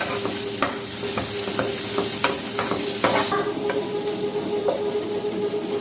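Chilli and other ingredients cook in a hot pan, a continuous close sizzle and hiss with several sharp stirring scrapes and knocks of a utensil against the pan.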